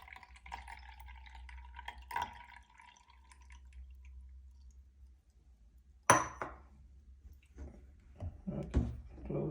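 Water from a glass trickles and drips into the mop water tank of a Lubluelu SL61/SL60 robot vacuum, a soft pour early on followed by a splashy burst and scattered drips, close and fairly quiet.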